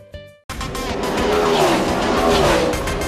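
NASCAR stock cars race in a New England series, engines roaring loud and steady after a brief opening sound, with tires squealing and a rising pitch as cars pass close by.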